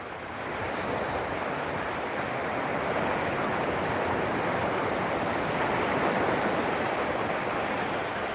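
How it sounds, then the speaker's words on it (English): Ocean waves breaking on the shore at Cocoa Beach, a steady, loud, broadband rush of surf with wind noise on the microphone, continuous and without speech. "You can tell there's some waves decently capping up over there."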